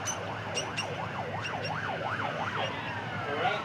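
An ambulance siren wails in a rising and falling cycle as it passes along an Adelaide street, clear but at a moderate distance over a steady hum of traffic.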